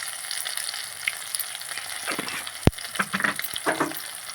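Spices with chili powder and salt sautéing in a pan, a low crackling sizzle broken by stirring scrapes and one sharp utensil knock.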